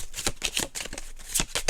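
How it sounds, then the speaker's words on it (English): Tarot cards shuffled by hand in a few quick, crisp bursts of riffling and sliding, close and fairly loud, with no voices. "I've never shuffled like this before."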